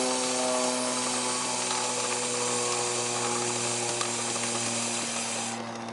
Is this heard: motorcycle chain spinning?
yes